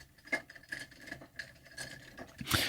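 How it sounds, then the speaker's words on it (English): A jar filled with pens, markers and pencils is handled close to a microphone, giving light rattling and clacking of plastic and wood in irregular bursts, ending with a louder jostle. "here's a jar of pens and markers and pencils and stuff"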